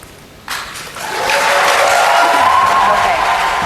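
Audience applause that starts with a sudden burst, swells within a second into loud, sustained clapping from a large crowd, and keeps going steadily to the end with some cheering mixed in.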